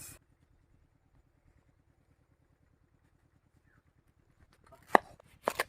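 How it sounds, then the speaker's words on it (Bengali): A knife cuts into a jackfruit, landing two or three sharp, close chopping strikes near the end after a long, nearly silent stretch with only a faint low rhythmic hum. "কাঁঠালগুলো কাটি নেবো ঠিক আছে"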